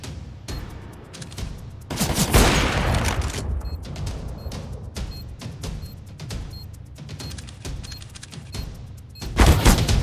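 Bursts of rapid game gunfire with booming thuds, loud and close, separated by stretches of quieter rattling shots.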